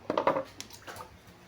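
Loose coins clinking inside a washing machine, a quick cluster of faint metallic rattles and chinks near the start, then a few scattered lighter clinks trailing off.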